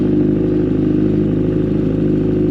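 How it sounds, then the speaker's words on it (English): A 1986 CB1000 custom motorcycle with an aftermarket exhaust rumbles steadily at idle close by, a deep throaty, slightly uneven exhaust note. "this bike sounds amazing."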